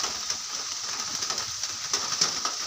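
Steady rain falls outdoors beside a pig pen under construction, a soft even hiss with faint scattered drips and a bird cooing now and then.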